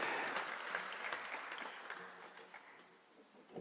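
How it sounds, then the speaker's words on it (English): Applause from a large audience at a formal Kenyan gathering, a steady wash of many hands clapping at moderate distance, fading slightly toward the end before a small swell. "let's clap as they're coming, as a sign that this is something that we all agree with"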